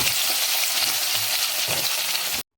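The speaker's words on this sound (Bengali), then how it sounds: "চলে যাও, মাছ ফুটছে।" Turmeric-coated fish pieces sizzle steadily in hot oil for kalia, a dense, even hiss close up that cuts off abruptly at the end.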